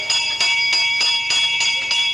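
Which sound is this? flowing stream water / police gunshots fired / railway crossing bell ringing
railway crossing bell ringing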